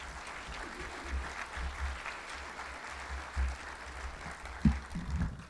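Applause from a conference audience welcoming David Stockman to the stage, a steady broad patter of many hands at moderate distance, with a few sharper claps standing out near the end.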